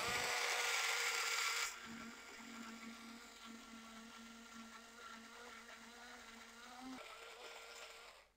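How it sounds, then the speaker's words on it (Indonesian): A blender runs loud at full speed and then drops to a steadier, lower whir as it grinds grated coconut with warm water into thick coconut milk, with no talk over it. "Nih kita akan blender"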